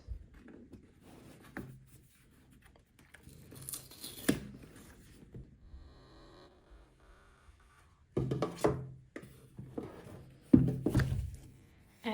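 Paper cover of a boxed Meta Quest 3 headset, 512 GB version, being torn and ripped open in several close bursts of crinkling and tearing, separated by quieter handling and soft thumps.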